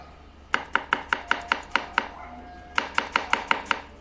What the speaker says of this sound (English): Show me how you slice the cabbage, please.